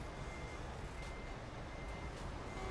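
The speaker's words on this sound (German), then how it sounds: "Ja, der fährt wieder rückwärts rein, Mann." A truck in Euro Truck Simulator 2 backs up, its repeated reversing beeps sounding faintly and evenly over a constant wash of engine and traffic noise.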